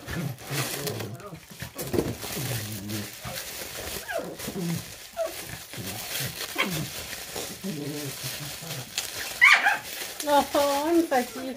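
Several dogs bark and whimper indoors in short, scattered bursts, partly buried under someone speaking French almost continuously.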